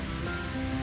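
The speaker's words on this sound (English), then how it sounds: "Lots of rain." Rain falling steadily on the Appalachian Trail during a thru-hike, a dense even hiss of drops on surfaces close around, continuous with no talking.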